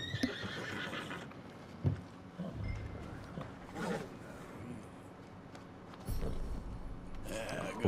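Horse in Red Dead Redemption 2 on PS5 lets out a loud whinny and neigh with hoof clip-clops and game ambience around it, close and prominent, while someone speaks briefly.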